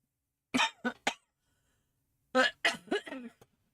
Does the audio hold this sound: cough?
yes